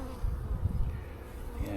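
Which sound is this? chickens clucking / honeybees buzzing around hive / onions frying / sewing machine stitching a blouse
honeybees buzzing around hive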